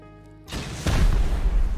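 A rocket explodes in the video game Rust, a sudden loud boom that swells into a heavy, sustained rumbling roar close by.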